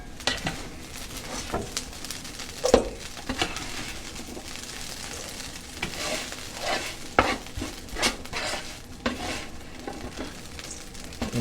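Cooked potatoes are scooped and scraped out of a sizzling frying pan with a utensil, giving repeated scraping and clinking strokes over a steady background of frying.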